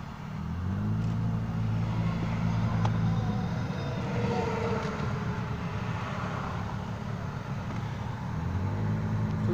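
Steady road noise from inside a car driving in traffic, a continuous low engine and tire rumble that holds constant throughout with no talking.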